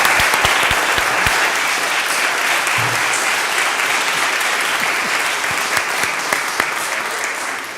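Sustained audience applause fills a candidate forum for a Ward 7 city council race, dense and steady with scattered sharper claps throughout, fading slightly toward the end with no voices over it.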